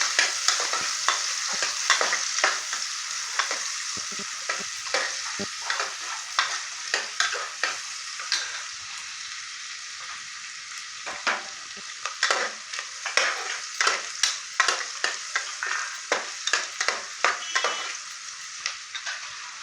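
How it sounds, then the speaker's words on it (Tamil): Onions frying in hot oil with ground spices for a vegetable biryani, a steady bright sizzle broken by repeated scraping and clattering stirs of a spoon against the pan, close and continuous with no talking. "இப்போது இது ஃப்ரை ஆகிட்டுருக்கு வெங்காயம்."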